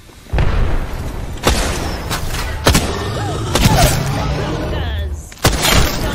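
Gunfire in an Apex Legends battle: repeated loud booming shots and bursts strike at intervals, some sharp and near, over a busy layer of game noise and sporadic voice chatter.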